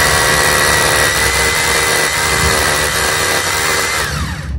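A hammer drill bores a hole for a railing post, giving a loud, continuous grinding whine with a steady rattle that dips briefly mid-way and eases toward the end.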